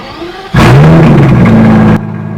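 Aston Martin DBS Superleggera engine firing up with a sudden loud roar that holds steady for about a second and a half, then cuts back to a lower idle rumble.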